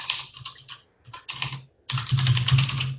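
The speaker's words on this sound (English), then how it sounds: "I'm just taking notes. So sorry about the clicking." Close, crisp computer keyboard typing during note-taking in an online development meeting, with short clattering bursts, brief pauses, then a sustained fast run of keystrokes.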